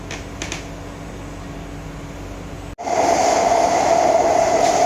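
Onboard a Singapore rail train: a steady rumble and hum of the moving carriage, which rises abruptly to a louder roar after a brief drop partway through.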